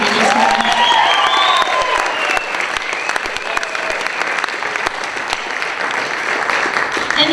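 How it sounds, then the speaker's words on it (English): A theatre audience applauds after an original song, dense clapping with some cheering and whoops early on, sustained at a steady level throughout. "Can I get a special round of applause?"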